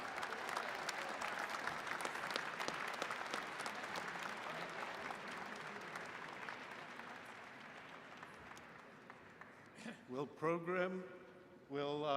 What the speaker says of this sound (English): join me in a round of applause for our Master of Information Systems Management graduates